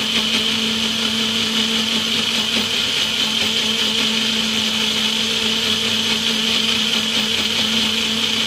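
An electric kitchen mixer grinder, about two years old, runs steadily with a loud, constant whirring motor hum and a high whine, close by and unbroken from start to finish.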